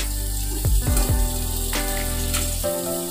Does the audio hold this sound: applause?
no